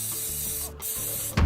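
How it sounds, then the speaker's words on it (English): Non-stick butter-flavored cooking spray is sprayed into baking pans as one steady, close hissing burst lasting over a second, with a brief break and a clunk at the end. "We got some lovely non-stick butter flavored spray."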